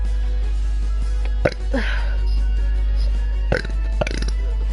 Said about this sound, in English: these are the most impressive burps I've ever done.